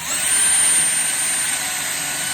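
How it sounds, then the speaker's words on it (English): Power drill boring a hole through old metal, a steady loud high-pitched whine and grind held for a couple of seconds with no talking. "we're drilling a hole in this drill bit"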